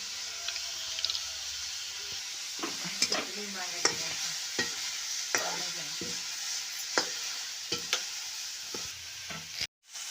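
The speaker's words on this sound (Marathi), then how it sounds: "इकडं आता फक्त कांदा परतून द्यायचा आहे आपल्याला" Chopped onion sautés in oil for a spicy crumbled bajra bhakri dish, with a soft background sizzle broken by repeated spatula scrapes and stirring clatter, and a brief dropout near the end.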